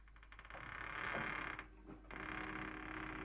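A door creaks open in a 1960s Batman television episode, a drawn-out squeaky groan with ratcheting texture, fairly loud and close, pausing briefly before the creak resumes.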